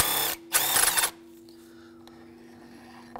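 Ratchet working loose a spark plug on a 2007-2013 Mitsubishi Outlander, two short loud bursts of rapid clicking close by, then quiet with faint metallic taps.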